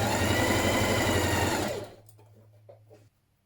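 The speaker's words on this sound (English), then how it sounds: "stitch from here to here with a 1 centimetre seam" A sewing machine runs loud and steady for nearly two seconds, stitching the pocket seam of a midi dress, then winds down and stops, leaving a low hum and faint handling clicks.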